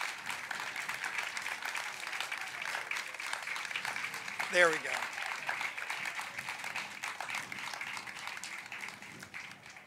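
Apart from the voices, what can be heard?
audience applause for family members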